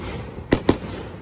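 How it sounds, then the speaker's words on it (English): Fireworks burst outdoors on Memorial Day: two sharp, loud bangs about a fifth of a second apart, with a quieter background before and after. "There we go, look at that, fireworks."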